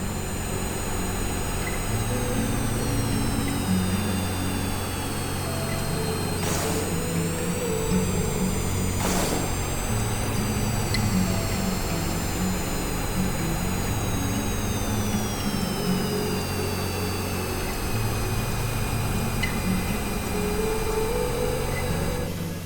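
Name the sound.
combat planes maneuvering, aircraft engines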